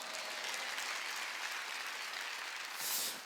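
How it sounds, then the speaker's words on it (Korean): A church congregation at a Sunday worship service applauding together, a soft but steady wash of many hands clapping heard from some distance, swelling slightly just before it ends. "이 교회는 예수 중심 교회인 걸 믿으면 박수 주세요"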